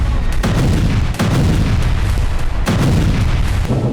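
Heavy explosions from an airstrike on the Hazeez power station, a sustained, loud, dense roar of blasts with several sharp booming onsets and continuous rumbling throughout, no voices.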